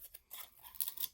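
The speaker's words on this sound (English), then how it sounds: "when I turn it and try to cut along this way, it gets rid of the extra cardboard a lot faster, and my scissors have no problem making these ones" Scissors cut through cardboard in a few close, crisp crunching snips, quiet and alone with no voices.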